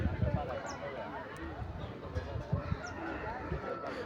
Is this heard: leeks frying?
no